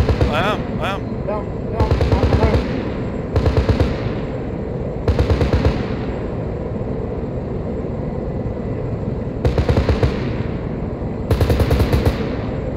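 An aircraft gun run strafing ground targets in the military game Arma 3: repeated loud bursts of rapid cannon fire, each a second or so long, spaced a few seconds apart over a steady engine roar, with radio chatter between bursts.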